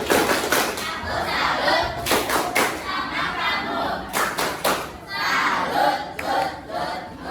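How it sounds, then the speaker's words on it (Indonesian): A classroom of students claps together in salute for a group that just presented, a rhythmic burst of hand claps with crowd voices, recurring in waves across the room. "Tepuk salut untuk kelompok 4."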